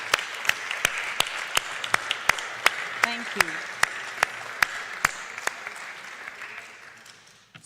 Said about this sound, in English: So a round of applause for all of our advocates and leaders.